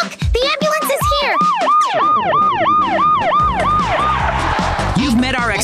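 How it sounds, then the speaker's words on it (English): Loud ambulance siren in a Minecraft game scene, a rapid repeating wail that rises and falls steadily at close range, with the vehicle's engine rumbling underneath. "Oh, look! The ambulance is here!"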